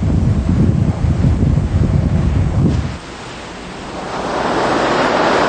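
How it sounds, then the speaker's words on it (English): Sea waves at Gampo on the East Sea coast near Gyeongju roll and wash in a steady, loud surge, buffeted by heavy wind noise, easing briefly before a broad hiss of surf builds again. "This is called the Sea of Kampo in the East Sea"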